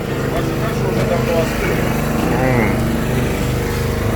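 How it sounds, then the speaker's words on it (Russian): A generator runs at a tourist guest house beside a bison reserve in Yakutia, producing a loud, steady engine drone with a constant mechanical hum, and a voice speaks over it. "Для туристов здесь работает генератор"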